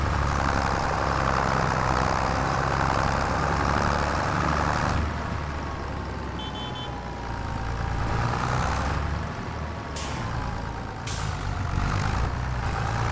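A tractor engine driving in Farming Simulator 25, a steady loud mechanical drone with hissing, air-brake-like bursts and shifting tone as it moves, no speech over it.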